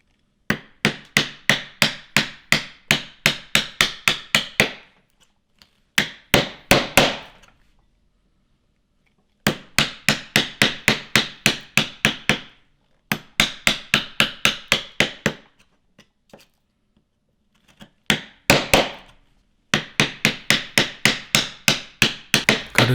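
Wooden mallet strikes a chisel held upright to cut a mortise in wood, sharp rapid knocks in bursts of a dozen or so blows separated by pauses, close and loud with no talking.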